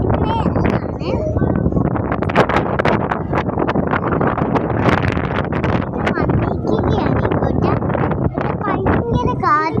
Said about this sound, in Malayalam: ഏറ്റവും കൂടുതലുള്ള ഭയങ്കര കാറ്റാണ്